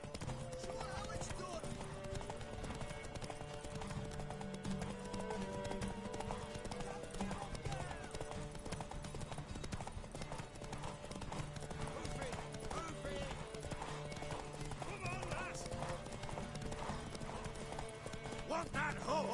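Horse hooves clip-clop steadily at a gallop in the Witcher 3 video game, a continuous rhythmic beat under dense music and game sound, with voices talking over it and a brief whinny.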